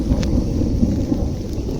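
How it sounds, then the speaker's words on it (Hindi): Sudden rain with thunder in the Himachal hills, a dense, steady downpour hiss with low rolling rumbles beneath it, loud and continuous, with no talking. "देखो बारिश शुरू होगी एकदम से ही"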